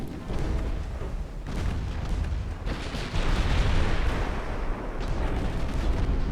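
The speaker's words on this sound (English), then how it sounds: "Right, just load high explosive," High-explosive shells fire in a steady, heavy barrage during a Brazilian campaign war game, with dense overlapping booms and rumble that swell louder after the first few seconds and keep rolling without pause.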